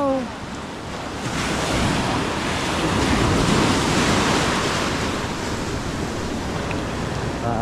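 Ocean surf rolls in as a steady, broad roar of breaking waves, swelling slightly in the middle, with wind rushing across the microphone and no talking.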